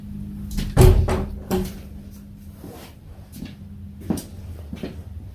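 An old wooden door in a cellar root-storage room is handled, with several knocking thumps and creaky bumps near the start, then softer scattered knocks, heard close in a small echoey space.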